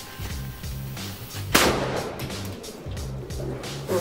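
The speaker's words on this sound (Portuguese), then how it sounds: "ele explodiu, voou o pistão com toda a força na parede" A miniature cannon bursts from overload with a sharp, sudden bang as its piston slams into a wall, a single loud crack over a steady rhythmic mechanical thumping background.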